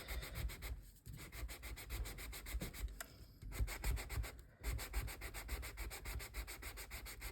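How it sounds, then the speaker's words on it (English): Steady rubbing rasp of sandpaper worked over a playing card surface for a junk journal, continuous strokes close up with brief pauses, no voices. "I'm going to sand in this area because that's where I'm going to be adhering."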